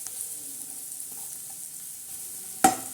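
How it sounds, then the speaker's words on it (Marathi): Spiced tempering crackles and sizzles in hot oil for a drumstick and moong dal dish, a steady faint hiss throughout, ending with a couple of sharp utensil clatters near the end. No one speaks. "झणझणीत आणि चमचमीत अशी मस्त बघारणी दिलेली आहे बघा"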